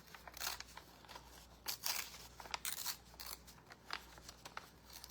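Scissors snipping through paper to cut out printed words for handmade journal cards, a close, crisp series of irregular cuts and crunchy paper rustles, with no talking.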